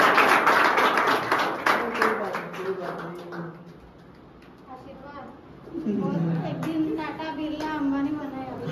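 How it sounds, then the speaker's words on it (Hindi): Students at a salon academy certificate day clap in a brief burst at the start, fading within a few seconds, followed by people talking. "ताली बजा।"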